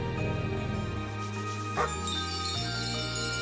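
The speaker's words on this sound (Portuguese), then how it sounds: "Olha um cachorrinho." Small dog in the video game Chained Echoes giving a few short yips and barks over a steady tinkling game music loop, brief and fairly clear.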